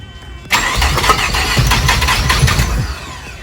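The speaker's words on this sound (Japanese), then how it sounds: "ちょっとエンジンかけてみてください。" A Mazda RX-7 FC rotary engine cranks and fires abruptly, settling into a loud, steady idle with a lumpy, uneven pulse close by.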